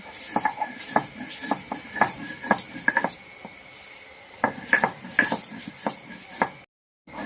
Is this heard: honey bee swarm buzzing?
no